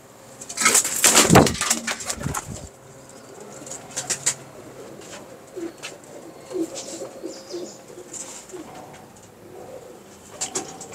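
Show pigeons coo softly and repeatedly close by after a loud, brief burst of wing flapping at the start, with scattered rustles and occasional further flutters throughout.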